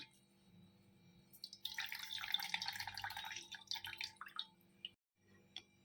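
Water drips and trickles steadily from curd hung in a cloth into a bowl for a few seconds, fairly quiet and close, then stops.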